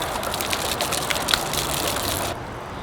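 Water gushes and splashes while rinsing out a chopper motorcycle part, a loud, steady rushing spray up close that cuts off abruptly near the end.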